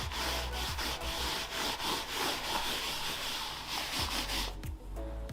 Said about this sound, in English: we'll rub this over all the access points of the carpet and see if anything appears on there